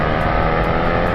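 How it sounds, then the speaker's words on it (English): A Range Rover Sport V8 engine revving, a loud dense continuous roar held steady over a short burst. "The noise of a V8 is an important thing for piston head readers"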